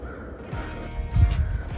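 A crow caws outdoors in freezing winter woods, a couple of harsh calls at moderate distance rising over a quiet background rustle.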